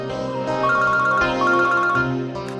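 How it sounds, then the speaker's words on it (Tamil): A phone ringtone for an incoming call plays on its own as a melodic electronic tune, loud and steady for a couple of seconds with repeating notes. "சோலங்கி ஃபோன் பண்றாரு"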